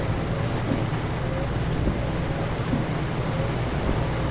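Steady rain falling in Euro Truck Simulator 2, a broad continuous hiss layered over the low drone of a truck engine, even and constant throughout with no talk.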